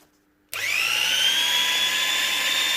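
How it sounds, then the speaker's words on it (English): Range Rover parking brake module with new motor and gears switched on after near silence, whirring at a steady high-pitched whine with a constant drone, close and continuous to the end. "here it is, new gears, new motor. So let's just give it a quick test"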